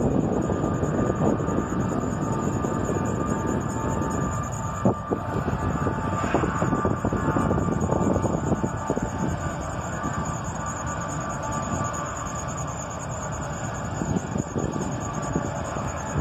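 A Norfolk Southern freight rumbles past, led by an ET44AH locomotive with an SD40E trailing, a loud sustained low roar with wheel clatter and a steady high whine, continuous and close, no talking.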